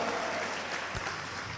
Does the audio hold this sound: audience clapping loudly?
yes